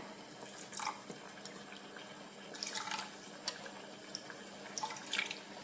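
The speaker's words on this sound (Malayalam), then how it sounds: "ഇതേ അളവിൽ തന്നെ 3 ടേബിൾ സ്പൂണ് വെള്ളം ഒഴിക്കാം." Three tablespoons of water are poured onto sugar in a pan while making a pudding. There are a few quiet, brief splashes and trickles, close by, spaced apart over soft background noise.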